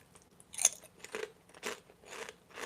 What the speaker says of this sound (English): You hear that crunch?